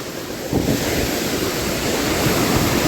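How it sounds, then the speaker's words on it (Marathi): Strong, fast-flowing water rushes during a monsoon waterfall trek at Kelavli, Satara, making a loud, continuous roar. It is mixed with wind buffeting the mic and some splashing as someone wades through. "पाण्यातून चालणं खूप अवघड होतंय, पाण्याचा फ्लो खूप जास्त आहे."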